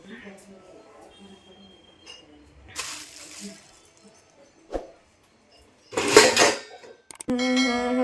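Cooking pots and metal vessels clatter and scrape in a home kitchen during house cleaning, in scattered bursts with a faint running-tap hiss and quiet gaps, close by, while someone talks between the sounds.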